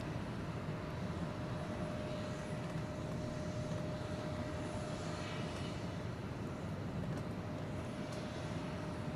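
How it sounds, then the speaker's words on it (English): A Boeing 737-900 airliner holds at Atlanta airport before takeoff, its engines giving a steady, continuous broadband roar with a faint sustained tone, moderately distant and unbroken throughout. "A 737-900 is awaiting takeoff."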